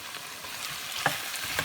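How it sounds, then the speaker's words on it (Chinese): Radish chunks stir-fried over medium heat with oyster sauce, sugar and salt give a continuous close sizzle broken by scraping spatula strokes, with no talk. "用中火继续翻炒，让蚝油白糖还有咸盐它们充分的包裹在这个萝卜块上边"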